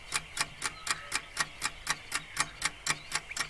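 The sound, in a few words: wind-up alarm clock ticking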